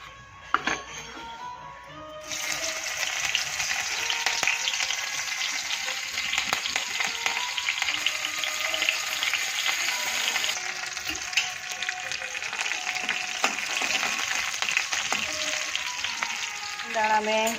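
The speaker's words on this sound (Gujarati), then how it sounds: "હવે જીરું મસ્ત શેકાઈ જાય એટલે લીલા મરચાં ને લીમડી નાખી" Cumin seeds, green chillies and curry leaves frying in hot oil, a faint start that bursts into a loud, dense, continuous sizzle with crackles, close up, with occasional clinks of a utensil against the pan.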